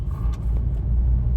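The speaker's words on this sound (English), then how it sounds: "let's go for a drive in this car and see how it drives" A 2018 Hyundai Creta being driven, its engine and road noise forming a steady low rumble from inside the cabin, continuous and fairly loud with no talking.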